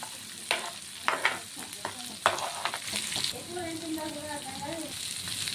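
Onions fry in oil with a crackling sizzle while a spoon scrapes and clinks against the pan in irregular strokes, and a brief voice-like tone rises near the end.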